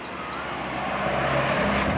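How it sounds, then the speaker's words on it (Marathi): Vehicles passing on a road, a steady broadband traffic rumble that swells slightly louder toward the end, with no talk. "गाड्यांचा आवाज"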